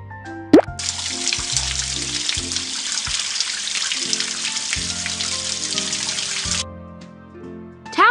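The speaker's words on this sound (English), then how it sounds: "Let's rinse the pup's paws under the water to get them wet." Running water rinsing a cartoon puppy's paws in a Paw Patrol children's video game, a steady splashing tap stream that starts after a short plop and stops near the end, with soft musical notes underneath.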